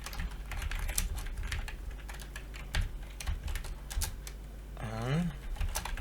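Code being typed on a computer keyboard to edit a .NET Core project file, with irregular clicky keystrokes over a steady low hum; a voice briefly speaks near the end.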